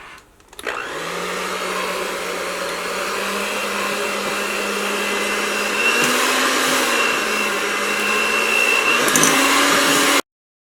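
An electric mixer whips pudding mixture with syrup at high speed in a steady, loud whir, its motor pitch stepping up midway before cutting off abruptly.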